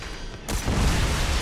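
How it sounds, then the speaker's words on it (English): A game explosion from Red Faction Armageddon bursts in after a quieter stretch, a loud broadband blast that swells and rumbles on with dense low crackle and debris noise to the end. "It's gonna explode!"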